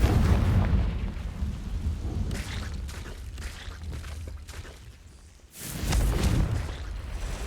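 A Confringo blasting spell explodes in the Hogwarts Legacy video game: a heavy, rumbling boom that fills the low end, followed after a short dip by a second loud burst, with no talk.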